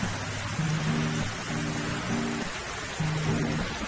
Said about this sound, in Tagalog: Kakainis naman, tagal tumila ng ulan.